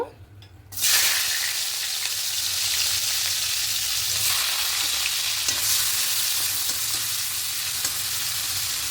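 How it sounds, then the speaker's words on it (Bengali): Onions hit hot oil in a pan while cooking a prawn curry with taro, potato and eggplant; after a quiet first moment, a loud, steady, close sizzle and crackle sets in and holds with no break. "এবার তেলের মধ্যে পেঁয়াজটা দিয়ে দেব"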